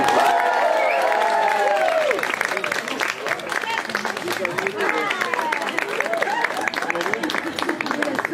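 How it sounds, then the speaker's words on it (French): An audience at a tattoo convention applauds and cheers a fully tattooed performer being introduced, sustained crowd clapping throughout, with a loud whoop and voices shouting over it at the start. "Je vous demande d'applaudir donc comme il convient"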